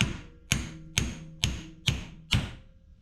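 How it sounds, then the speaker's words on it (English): Six evenly spaced hammer blows ring out sharply, about one every half second, striking the nut on a Duramax diesel injection pump gear that is still clamped in place. "You hit the nut and that should have freed it up."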